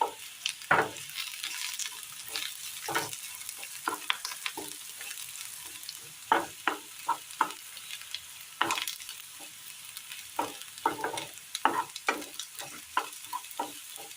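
A spoon stirring and scraping ingredients in a frying pan, irregular clinks and scrapes over a faint background sizzle, close and alone with no talk.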